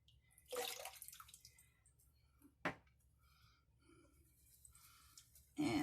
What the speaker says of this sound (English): So let me put a little water on top of the